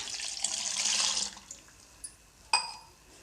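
Water is poured onto freshly ground finger millet (ragi) in a soft, splashing stream, followed by a few faint clinks and one sharper knock of a utensil as it is mixed, all fairly quiet.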